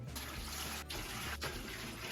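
Three quarts of water pouring into a Presto electric pressure canner make a steady, close, loud rushing splash that barely pauses twice before carrying on.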